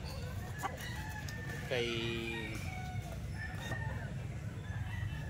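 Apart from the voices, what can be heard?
roosters crowing and clucking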